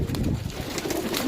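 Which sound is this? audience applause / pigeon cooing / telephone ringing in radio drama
pigeon cooing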